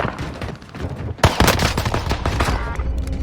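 Pistol fire in a video game cracks out in a rapid burst of loud, sharp shots, surrounded by other gunfire and game noise.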